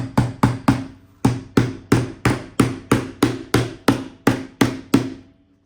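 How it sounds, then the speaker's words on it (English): A hammer strikes repeatedly while a wooden bathroom sign is made, about fifteen sharp, evenly spaced blows in quick succession, close and loud, with one brief pause, and no talking. "Take my hammer."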